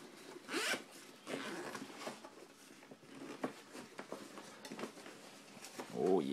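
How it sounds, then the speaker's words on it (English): The two zippers on a drill's carrying bag are pulled open in several quick, rasping strokes at close range, separated by short pauses, with soft handling rustles and a faint clink near the end. "It's got 2 zippers."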